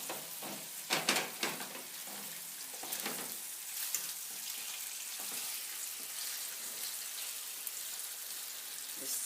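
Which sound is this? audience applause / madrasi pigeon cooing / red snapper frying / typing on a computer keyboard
red snapper frying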